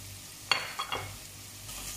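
Spices for a chana dal with spinach fry in a pan, with a faint, low sizzle under a sharp scrape and a couple of softer stirring strokes against the metal.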